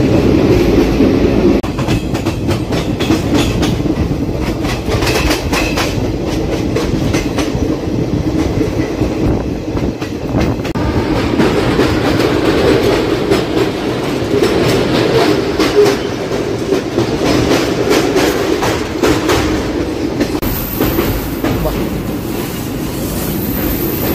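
Passenger train on the Rajahmundry to Araku line running through a tunnel, a loud, steady enclosed rumble of wheels and carriages with rhythmic clickety-clack throughout, close and continuous with no talk.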